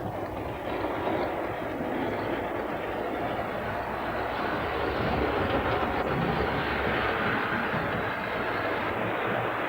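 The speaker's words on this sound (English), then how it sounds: "Eight trains could be run at one time" Model trains run around a large layout with as many as eight trains going at once, a continuous rumbling clatter of wheels on track filling the space at a steady, moderate level throughout.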